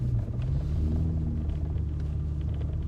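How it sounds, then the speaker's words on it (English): A loud car driving on an icy road in Jackson, Mississippi, heard from inside as a steady, heavy low rumble with droning engine tones, close and continuous without talk. "you know my car is a little loud, so bear with us"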